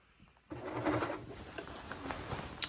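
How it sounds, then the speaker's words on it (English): A serger stitches along the waist seam of a summer dress, a steady close mechanical whir that starts abruptly after a quiet moment and runs continuously with small rhythmic clicks. "So I'm serging the waist."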